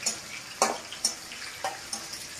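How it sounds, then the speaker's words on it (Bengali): Green chillies frying in oil for a mixed vegetable dish, a steady crackling sizzle broken by a few sharper spatters and stirring scrapes, close and fairly faint, with no voices. "কাঁচা লঙ্কাটাকে ভালো করে ভেজে নিচ্ছি, তাতে ফ্লেভারটা ভালো আসবে।"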